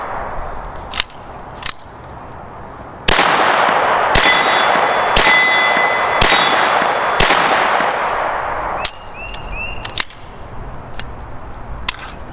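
Sharp .22 rimfire gunshots from a Sig 22 conversion kit firing Winchester M22 ammunition, two single cracks, then a string of rapid shots with ringing metallic echoes, followed by scattered later shots outdoors.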